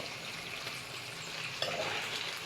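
Chicken pieces go into a hot pan and fry with a steady broadband sizzle close by, a brief stir or clatter partway through, no talk.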